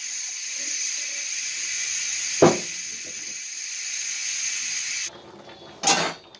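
Liquid poured into a hot pot of feijoada on a wood-fired stove sets off a steady, loud hiss, broken by a couple of sharper sizzling bursts near the end.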